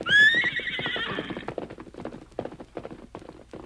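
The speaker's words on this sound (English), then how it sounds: "the masked man stood, watching his famous horse race down the hill" A horse neighs loudly up close, then its hooves clip-clop in a quick galloping rhythm as it races away, fading slightly, in a radio drama scene.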